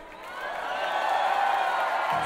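Crowd at a concert in Moscow keeps up a broad wash of clapping and cheering, swelling slightly and staying loud and dense throughout.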